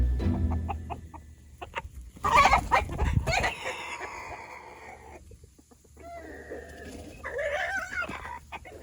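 A chicken vocalizes in bursts of clucks and louder squawking calls, close by with some farmyard background and no talking.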